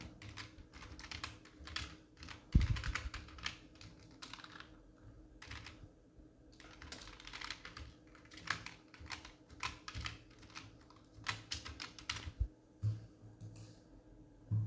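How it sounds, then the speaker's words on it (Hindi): Steady typing on a computer keyboard while entering an email address, a run of quiet, close clicking keystrokes in uneven bursts with short pauses and no talking. "सिंपल से टाइप कर देता हूँ"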